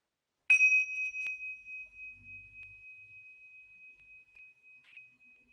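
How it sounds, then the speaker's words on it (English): A single bell strikes once at the close of a calming classroom mindfulness exercise, then rings on as a pure, sustained tone that slowly fades in an otherwise quiet room. "when you hear the bell"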